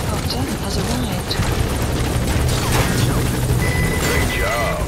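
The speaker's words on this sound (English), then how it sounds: "Support helicopter has arrived." A support helicopter in the video game Metal Gear Solid V: The Phantom Pain gives a loud, continuous rotor roar with thumping, along with game sounds and voices speaking.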